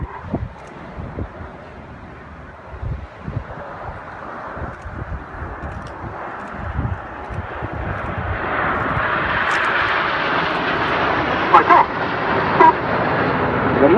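Red Arrows jets in formation at an air festival, descending through a left-hand turn: a broad jet roar swelling steadily louder over the whole span, with scattered crowd noise and clatter beneath at first.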